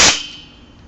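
Husky air compressor letting its pressure go in one sharp, loud bang, then a fading hiss trailing off into quiet.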